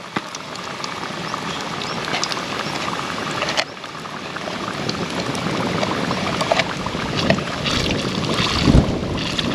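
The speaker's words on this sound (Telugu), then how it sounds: "గాలి ఎక్కువ వస్తుంది" Strong wind buffets the microphone in a steady broadband roar, gusting louder toward the end with a low thump near the close.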